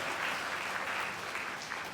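Steady, dense applause from a conference audience clapping for student paper presenters, sustained and even throughout with no pause.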